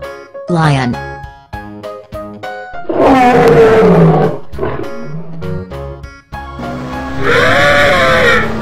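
A lion lets out several loud, close roars, some deep and rumbling, others more strained and bleat-like, separated by short gaps.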